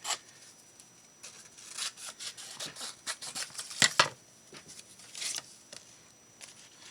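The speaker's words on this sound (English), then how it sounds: "Scissors." Scissors snipping through a paper sewing pattern, a quiet run of irregular crisp cuts and rustles with a couple of sharper snips near the middle.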